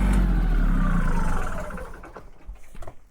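A tractor engine runs loud and close, a low rumbling drone that fades and drops away over a few seconds, leaving quieter knocks and rustles.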